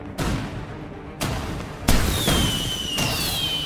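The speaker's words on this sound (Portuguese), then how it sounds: "Os fogos de artifício estão saindo!" Fireworks in an animated cartoon go off in a quick series of four sharp bangs, each followed by a crackling hiss and whistling streaks, loud and close.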